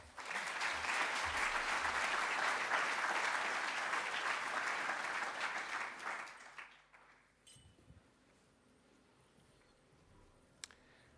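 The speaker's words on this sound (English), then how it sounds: "please can we put a round of applause for Nicholas as he comes to the stage" A conference audience at London Tech Week applauds a speaker coming to the stage with loud, sustained clapping that holds steady for about six seconds, then tapers off into quiet room noise.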